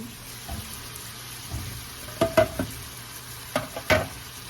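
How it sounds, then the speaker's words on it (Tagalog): Beef steak frying in a pan, a low sizzle under a few bursts of clattering and scraping, close by, with no talk. "we're gonna wait for frying a little bit and make it brown"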